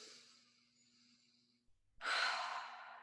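A single deep breath during a calming tapping exercise: a soft, quiet inhale, a brief pause, then a fuller audible exhale close to the mic.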